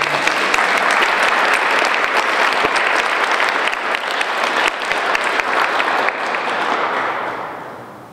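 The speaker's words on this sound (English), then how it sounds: "Another round of applause." Sustained loud applause from an audience at a staff award presentation, dense steady clapping that carries on alone for several seconds before tapering off at the end.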